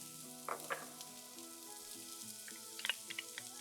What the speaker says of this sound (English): now we're going to saute that for a couple of minutes or until they're softened and fragrant